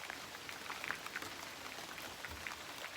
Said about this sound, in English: Oh yeah, here comes the rain.